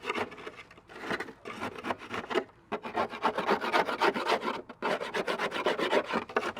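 A chisel scraping caked grass and dirt from the underside of a Honda lawn mower deck, rough rasping strokes in quick repeated bursts, close and fairly loud, with brief pauses between passes.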